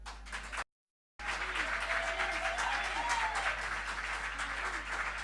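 A congregation applauds during a church worship service, a steady broad wash of clapping that fills the room, briefly cut off by a short gap of silence before resuming at full strength.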